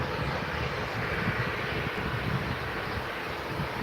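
A Jet2 jet departs Manchester Airport's runway 23L, its engines a broad, steady roar that holds loud and even throughout, with wind rumble underneath and no voices.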